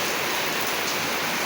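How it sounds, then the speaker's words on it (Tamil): Heavy, wind-driven rain pours down at night at around 8:30, a dense, unbroken hiss close by with no voices. "எங்கள் ஊரில் நல்லா மழை பெய்யுதுங்கோய்."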